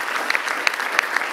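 Indoor audience at an awards ceremony applauding the communications team, a dense, moderately close burst of clapping with a few sharper individual claps standing out.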